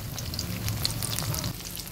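Pointed gourd (potol) slices fry in a pan with a soft, steady sizzle and faint crackle, close by and quiet, with no voices.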